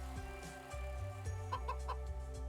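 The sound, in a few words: rooster crowing in video game A Space for the Unbound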